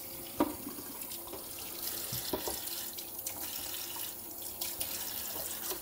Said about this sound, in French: en attendant, on fait couler l'eau